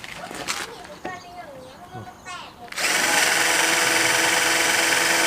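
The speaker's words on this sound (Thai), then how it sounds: "ผมก็เจาะตรงนี้" A power drill bores into wooden formwork for a reinforced concrete lintel beam. It starts abruptly partway through and runs loud and steady to the end, preceded by a few scattered handling noises and a voice.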